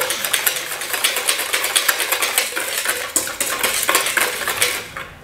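A whisk or utensil beats dry flour and baking powder in a bowl for pancakes, producing fast rhythmic clinking and scraping against the bowl, close and continuous.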